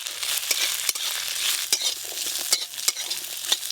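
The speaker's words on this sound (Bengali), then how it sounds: "একটু ভাজা ভাজা হয়ে গেলেই নামিয়ে নেবো" Onion, garlic, ginger, coriander, cumin and dried red chillies frying together in a pan: a close, crisp sizzle broken by repeated sharp scrapes and clicks of stirring, with no talk.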